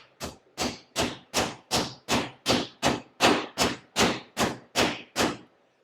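Tempered steak being pounded for country-fried steak on a kitchen counter: thirteen firm, evenly spaced thuds from a meat mallet, close and loud, with no talking.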